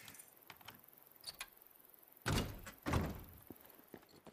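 In the video game Days Gone, a locked door is tried with a few soft clicks, then two solid rattling thuds as it holds fast, close and clear in an otherwise quiet room.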